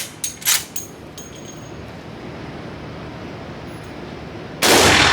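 Gunshots from an old west pistol, such as an 1872 or 1873 Colt, at a shooting range: a few sharp, close reports early on, then a loud broadband blast near the end over steady outdoor hiss.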